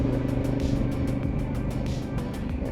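A car engine labors up a rough high-altitude mountain road in Tibet, giving a steady, loud, close drone with a constant throb and road rumble, and no voices.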